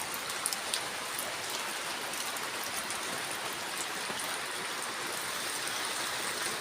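Rain pours steadily onto a home where water is flooding in front of the kitchen, a dense, even hiss with occasional sharper drips close by and no voices.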